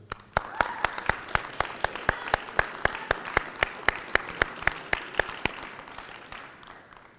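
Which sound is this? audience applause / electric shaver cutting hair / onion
audience applause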